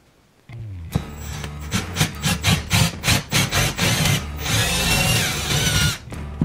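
A power drill bores through a stack of wood strips in a workshop, starting after a brief silence with a rapid series of grinding pulses, then a sustained loud whine as the bit pushes through.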